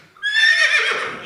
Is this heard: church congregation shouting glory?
no